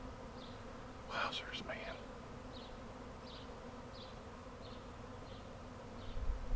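A bee swarm being caught and boxed outdoors gives a steady, soft insect buzz throughout, with a brief exclamation from a man partway through.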